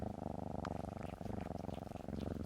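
A domestic cat purrs steadily and close up, a continuous low rumbling rhythm running through the whole stretch with a few faint background clicks.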